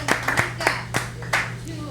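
A studio talk show audience claps to welcome a guest, a handful of scattered, fairly close hand claps over about two seconds, mixed with a speaking voice and a steady low hum.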